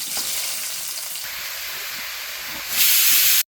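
Cinnamon, cloves, fennel seeds and chopped onions hit hot coconut oil for a beef biryani, giving a loud, steady broadband sizzle that swells even louder near the end, with no voices.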